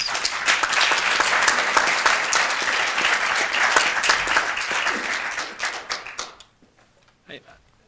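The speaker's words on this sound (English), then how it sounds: "Let's give him a round of applause." Audience applause at a law school debate event, loud sustained clapping from a sizeable crowd that fades out after about six seconds, followed by a few scattered claps and a voice.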